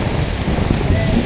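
Gusty wind buffets the microphone at a seaside port, a broad steady rushing noise with low thumps throughout.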